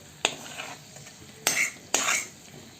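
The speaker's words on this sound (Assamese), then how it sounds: "প্লেটখনত এনেদৰে গোটেইখিনি উলিয়াই ল'ম।" Three scraping clinks of a metal spoon against a pan as fried tomato and onion are scooped out onto a plate, sharp and close, with faint sizzling between strokes.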